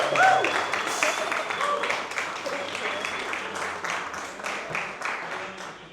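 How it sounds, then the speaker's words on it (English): An audience claps and cheers after a speaker at a Black Panther Party Museum event, dense steady applause filling the room while a host talks over it. "Round of applause for Leah Sharif. Come on, give me some more."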